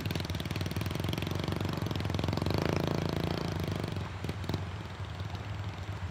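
Steady loud motorcycle engine drone with a gurgling, burbling exhaust note as the exhaust bubbles through river water during a crossing, continuous without pauses and no voices.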